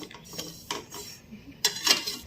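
A metal spoon scrapes and clinks against a steel container in a few short, sharp taps with quiet pauses between, as roasted semolina is spooned into the container.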